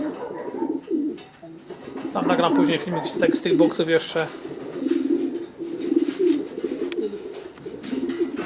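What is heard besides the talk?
breeding pigeons cooing in boxes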